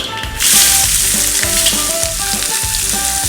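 Eggplant frying in hot oil for baingan masala, a loud, steady, close sizzle that runs without a break after a sudden start, with faint music playing underneath.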